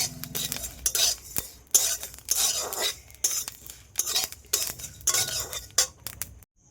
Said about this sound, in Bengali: আর মশলাটা কিন্তু অলরেডি ভাজছি।